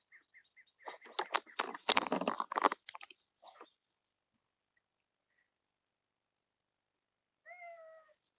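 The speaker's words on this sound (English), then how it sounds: "He's our big kitty." Big house cat giving one short meow near the end, after a burst of crunching and chewing sounds, close and alone without talk.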